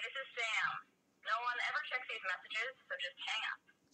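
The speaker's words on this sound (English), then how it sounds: "So I call it, I'll just get a voicemail." A phone call connecting to a voicemail greeting, with a tinny, narrow-band recorded voice speaking in short phrases through a phone speaker.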